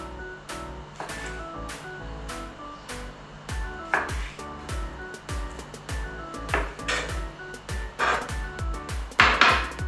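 A knife cubes fresh salmon on a board into roughly one-centimetre pieces, with a steady run of sharp, close chops and taps that grow louder and quicker toward the end.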